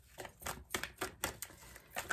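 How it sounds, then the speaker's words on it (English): Oracle cards are shuffled by hand, giving a quick series of crisp papery riffles and taps in an even rhythm about four times a second, close and quiet with no speech. "let's shuffle properly first."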